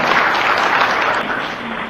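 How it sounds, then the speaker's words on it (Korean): Guests at a book launch event clap to welcome a speaker to the podium, a loud, dense round of applause sustained evenly throughout. "내빈 여러분 뜨거운 박수로 맞이해주시기 바랍니다."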